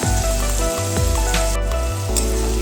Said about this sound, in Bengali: মাঝারি আঁচে আমি সবজিগুলোকে ভাজতে দেব। খুন্তি দিয়ে মাঝে মাঝে বিনসগুলিকে নাড়িয়ে দিতে হবে